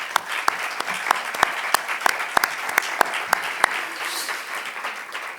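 Audience applauding at a Spanish industry conference as a guest speaker is welcomed, a dense wash of many hands clapping steadily and fairly close for several seconds, with no voices over it.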